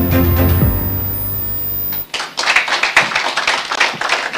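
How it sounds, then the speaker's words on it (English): Audience applause at a corporate ceremony marking Seplat Energy's decade of listing on the Nigerian Exchange, breaking out after a sustained tone and continuing as dense, uneven clapping through the rest of the moment. "thank you for that round of applause"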